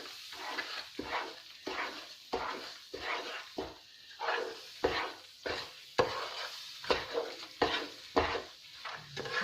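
Gram flour halwa with milk being stirred and roasted in a pan: repeated scraping strokes of a spoon at a steady rhythm, close and moderately loud, over a soft sizzle, with no talking.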